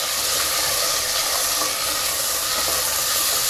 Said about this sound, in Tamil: தக்காளி பழம் நல்லா வதங்கி வர வரைக்கும் நல்லா வதக்கிக்கலாம்